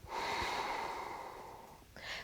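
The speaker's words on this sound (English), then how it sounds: "finding that soft ocean sound, breathing in through the nose, breathing out through the nose" Soft ocean-sound yoga breathing drawn in and out through the nose during a vinyasa session, one long, quiet, airy breath followed by the start of another, close and intimate with no speech.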